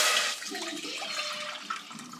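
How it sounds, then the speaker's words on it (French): Water pours into a cooking pot for rice, starting as a bright rushing splash and settling into a steadier gurgling flow that stays close, with no voices. "Je vais mettre l'eau pour le riz."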